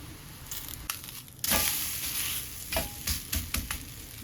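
Bottle gourd dhapate flatbread roasting in oil on a pan, giving a steady close sizzle with a few louder crackling bursts and scrapes as it cooks, no voices.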